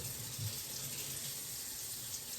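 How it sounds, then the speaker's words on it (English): A kitchen faucet runs warm water in a steady, soft, even hiss that continues throughout without a break, quiet and alone. "I'm going to turn the water on and get it warm."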